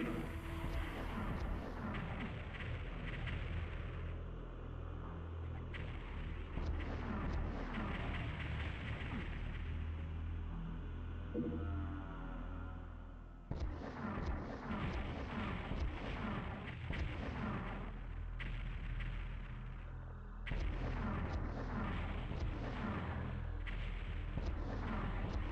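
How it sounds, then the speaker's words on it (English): Rocket launcher blasts in the video game PsyDoom, a run of heavy booming explosions that rumble almost continuously with a few sharp restarts, loud and dense throughout. "I've got the rocket launcher now"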